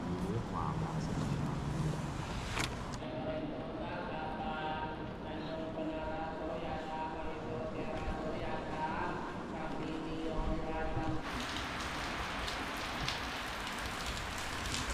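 Rain falls at a forest temple ringed by mountains, a soft, steady patter of drops on surfaces heard at a distance beneath intermittent talking and other faint background sounds.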